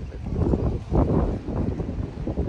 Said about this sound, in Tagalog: Mahangin ngayon, guys.